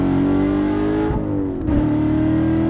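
Chevrolet Corvette engine, from a comparison of the 650 hp Z06 and the Stingray Z51 with seven-speed manual, revving hard at about 5,000 RPM, a loud steady roar that dips briefly and then climbs again.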